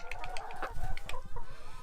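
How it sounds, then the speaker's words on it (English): Free-range chickens clucking while foraging at a compost heap, heard close up as a busy mix of overlapping clucks and short calls over soft scratching. "chickens love a compost heap"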